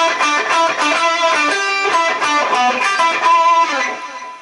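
Electric guitar with a distorted, effects-laden tone plays the short solo section of the Viva La Bam theme, a quick run of picked notes in an uneven rhythm, loud and alone throughout.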